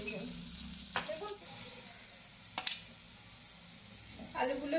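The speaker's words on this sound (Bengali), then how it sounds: "আলুগুলো দিয়ে দিলাম, পটলগুলো দিয়ে দিলাম" Potato and pointed gourd pieces land in a hot frying pan, a low continuous sizzle broken by a few scraping clatters and knocks as they are stirred in.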